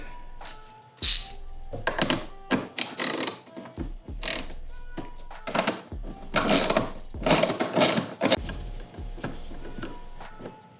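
Ratcheting clicks and metallic ticks from a wrench loosening 8 mm bolts on a BMW E38, arriving in several bursts of quick ratchet strokes with short pauses between, close and fairly loud with no talking.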